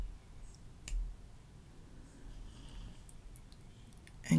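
Quiet computer mouse clicks in a calm room: one soft click early on and another sharper click right at the end, with near silence between.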